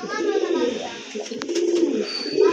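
Pigeons at a breeding farm coo in low, rolling phrases, repeating close by through the whole stretch, with a voice talking over them.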